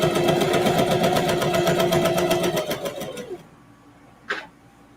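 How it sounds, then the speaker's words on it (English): A sewing machine runs fast and steady while back-stitching jeans, its rapid mechanical whir slowing and stopping after about three seconds, followed by a brief faint click. "I'm gonna back stitch"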